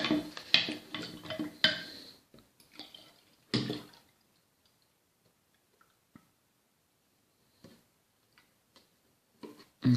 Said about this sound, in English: I'm going to use the other end of the spoon just to mix in the granules